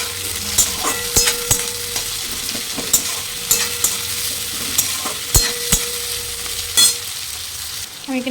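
Onions and potatoes fry in oil in a pan, giving a steady soft sizzle broken by sharp clacks of a spatula stirring at close range, with no voices.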